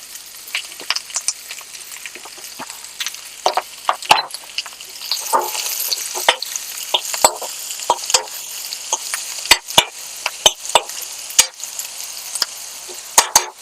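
Ingredients for a snake gourd curry frying in a pan give a steady close sizzle, broken by frequent sharp clicks and scrapes of a spoon stirring against the metal.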